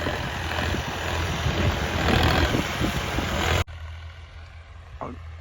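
A loud, steady tractor engine rumble runs for a few seconds and then cuts off abruptly, leaving a quieter background with a faint brief sound near the end, on a Punjab sugarcane farm.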